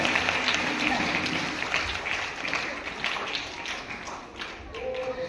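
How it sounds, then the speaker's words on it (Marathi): Children in a classroom clapping for two classmates, a sustained patter of small hands applauding together, fading slightly then picking up again, with a voice briefly audible. "आता या दोघांकरता आपण टाळी वाजवूया"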